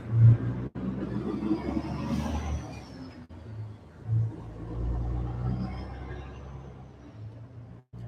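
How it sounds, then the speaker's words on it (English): A truck driving past outdoors, a deep steady rumble that swells and fades over several seconds, with brief thumps at the start and a sharp knock near the end, and no speech over it. "Let the truck go by."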